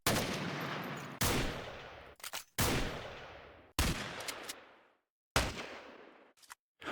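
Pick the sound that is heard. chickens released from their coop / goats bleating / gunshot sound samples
gunshot sound samples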